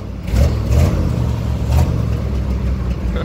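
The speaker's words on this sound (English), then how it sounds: "rev it." A newly bought truck's engine revs up twice in loud low surges with a brief dip between, then holds a steady rumble close by, no voices over it.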